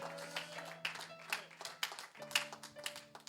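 A church congregation claps loudly in praise of Jesus, with quick irregular bursts of hand claps layered over a sustained organ or keyboard chord.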